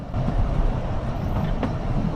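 A third-class steam train carriage rolls along the rails past sidings, a loud steady rumble with a faint rhythmic click of wheels over joints, heard close from inside.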